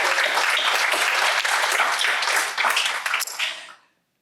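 An audience at a Men's Health Month brunch event breaks into loud, dense applause that holds steady for several seconds before quickly fading out.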